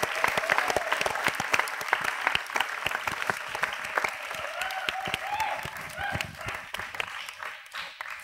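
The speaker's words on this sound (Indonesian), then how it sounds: "Diana mendengar tepuk tangan yang sangat banyak dan keras sekali" A large audience claps loudly and continuously in dense, steady applause, with voices murmuring underneath throughout.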